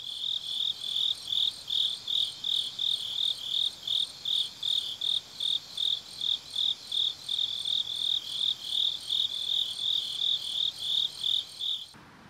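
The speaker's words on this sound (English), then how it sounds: "The rains end near the end of July, which is when hordes of cicadas appear." Loud, steady chorus of Korean cicadas in late July, a shrill buzzing drone pulsing in a rapid, regular rhythm throughout, with no voices.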